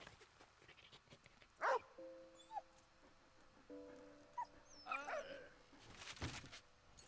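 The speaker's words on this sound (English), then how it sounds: "Am I playing as the dog now?" A dog in the World War I video game Valiant Hearts: The Great War gives a sharp bark, then a second bark with whimpering a few seconds later, over quiet game music and ambience.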